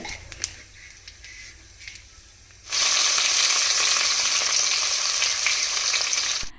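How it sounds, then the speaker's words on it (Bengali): Chopped onions drop into hot mustard oil with whole garam masala, cardamom, cloves and cinnamon; a quiet stirring gives way to a sudden loud, steady sizzle that continues to the end, close and without talk. "অল্প একটু নাড়িয়ে চাড়িয়ে প্রথমেই দেওয়া হলো পেঁয়াজ কুচিগুলো।"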